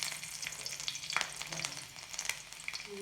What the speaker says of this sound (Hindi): संगवारी मन एमा डाल देबो हमन लहसुन ला।